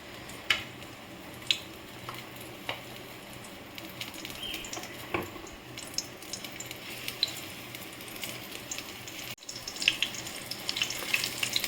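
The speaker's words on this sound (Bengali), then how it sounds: "এরকম সুন্দর করে সাবধানে দিতে হবে, আর হালকাভাবে এটাকে খুব সাবধানে ভাজতে হবে" Water lily (shapla) pakoras fry in hot oil with a steady, close crackle and scattered sharp pops, with no voices throughout.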